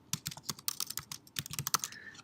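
Rapid typing on a computer keyboard while entering text on a web page, a close, clicky run of keystrokes in an uneven rhythm that ends with a final tap, with no talk.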